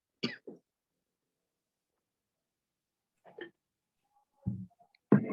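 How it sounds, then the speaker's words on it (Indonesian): A few short coughs and throat-clearing sounds, separated by silence, close to the listener. "agak batuk-batuk soalnya ya"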